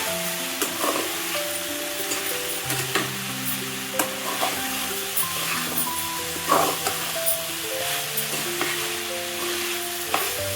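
Brinjal tossed with salt and chili sizzles steadily in hot oil, with scraping stirs throughout and a soft melodic tonal backdrop running underneath.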